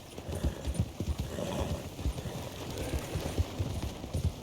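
Horse hooves clip-clopping at a steady walking rhythm in a video game, close and continuous across the moment, with no voice over them.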